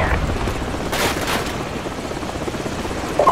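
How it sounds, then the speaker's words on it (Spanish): Helicopter rotor drone from Call of Duty 4: Modern Warfare, a steady broadband rumble with a brief louder swell near the middle, continuing evenly without speech. "Esperad, el helicóptero ha vuelto."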